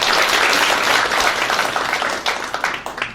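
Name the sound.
audience applause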